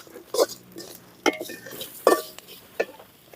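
Avaram flowers being sautéed in oil in a pan, a spatula scraping and tossing them in several distinct strokes with faint sizzling between, close up and fairly loud.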